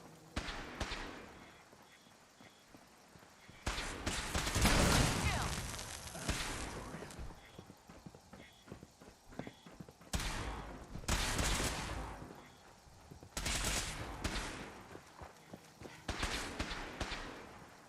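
Gunfire and explosive bursts from the video game Fallout 4, loud repeated volleys of shots in several clusters against a busy battle din, with strong booming impacts around the middle.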